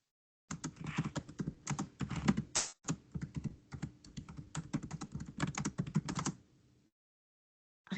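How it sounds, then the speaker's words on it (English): Fast, steady typing on a computer keyboard, dense clicking keystrokes for several seconds before stopping abruptly. "Who's manically typing away there? I can hear."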